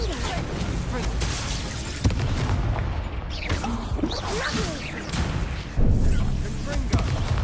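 A Confringo explosive spell cast in Hogwarts Legacy, with booming blasts and whooshes in dense game action, sharp impacts near two and six seconds over a continuous rumbling bed, with a voice calling out spells.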